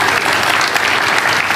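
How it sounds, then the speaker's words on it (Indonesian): A church congregation clapping for Jesus, a dense, loud, continuous burst of applause from many hands. "Kalau dengar gini mesti tepuk tangan untuk Tuhan Yesus"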